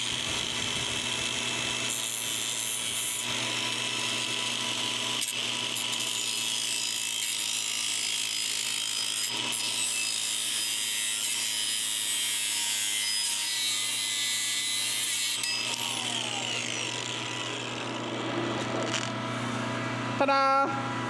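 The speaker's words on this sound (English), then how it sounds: "Try to keep super grinder grit out of the lathe." A grinder runs against a driveshaft turning in a lathe during a Mini Mack A40 build, giving a continuous high whine that stays steady and close for the whole stretch, then tapers with a few clunks near the end.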